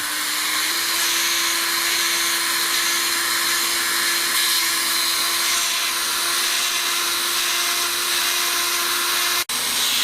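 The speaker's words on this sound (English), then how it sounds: "Using a cone-shaped burr works well on inside curves." A rotary tool fitted with a cone-shaped burr carves into bone, giving a steady, close high-pitched whine with gritty grinding that runs without pause and stops sharply near the end.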